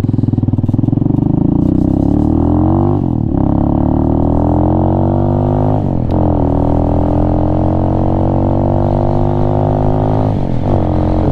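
A Venom Ghost Chopper 250 motorcycle with a PZ30B pumper carburetor runs close by, its engine rising and falling through several rev cycles with a short dip roughly every three seconds; no talking.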